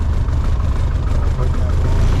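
Light aircraft engine throttled back to idle during a pre-flight run-up, a steady low droning rumble heard up close throughout, with some talk mixed in over it.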